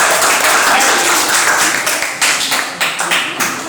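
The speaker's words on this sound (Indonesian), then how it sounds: "Ya, tepuk tangan untuk kita semua." Classroom group applause, dense mixed clapping that thins into a few separate louder claps at the end.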